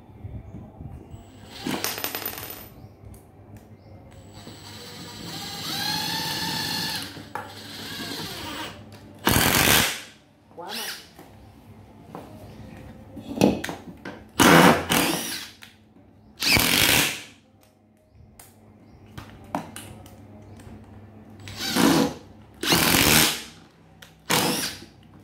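Makita 18V cordless drill driving wood screws, a run of short loud whirring bursts separated by pauses, the motor spinning up and stopping repeatedly close by.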